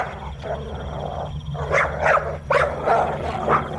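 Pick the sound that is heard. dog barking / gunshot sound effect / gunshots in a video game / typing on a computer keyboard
dog barking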